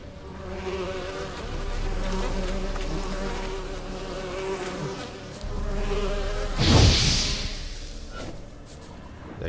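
Bees or hornets buzz steadily in The Witcher 3 video game, a continuous droning hum that swells near the middle, with a brief louder burst of game effect toward the end.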